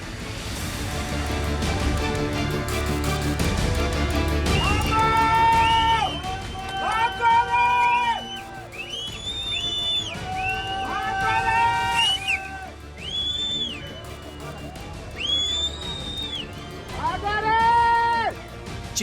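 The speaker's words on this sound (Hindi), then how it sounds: "सिर्फ लहरों की गर्जना, त्रासदी और सन्न कर देने वाली चीख पुकार" People scream and cry out during the Dharali cloudburst flood disaster in Uttarkashi, with repeated high-pitched wails rising and falling over a rushing, roaring background and crowd commotion.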